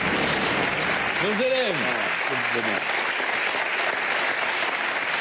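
Loud, steady audience applause at a French television show fills the whole stretch without a break, while a voice briefly speaks over it near the start.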